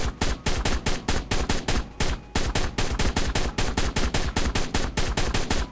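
Rapid, evenly spaced gunfire in the survival game ARK, aimed at a Giganotosaurus: a loud, steady burst of shots lasting nearly six seconds with a brief gap partway through.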